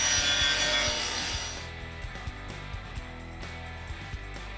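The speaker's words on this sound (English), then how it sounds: "We're gonna cross cut it 16 and a half inches across." A saw crosscuts a solid wood board 16.5 inches across, with a dense, loud cutting roar at first that drops after about 1.5 seconds to a lower run broken by repeated sharp knocks. No talk is heard.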